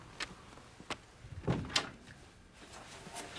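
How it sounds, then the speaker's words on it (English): An office door shut with a few dull wooden thuds and knocks, one firmer bang in the middle, fairly close in a quiet room. "Shut the door."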